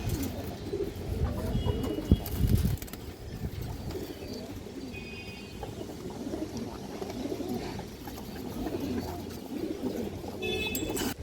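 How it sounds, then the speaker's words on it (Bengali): Domestic high-flyer pigeons coo softly and repeatedly against a murmuring indoor background, with occasional clicks and a brief louder rustle early on. "এই দেখেন দর্শক কবুতর।"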